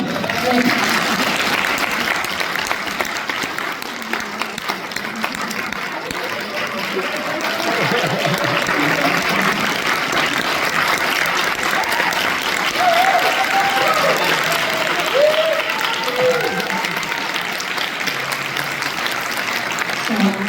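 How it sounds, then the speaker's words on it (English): Sustained audience applause after a public PhD defense, a dense even clapping from a full room lasting the whole stretch, with faint murmurs and chuckles mixed in. "Big applause to you"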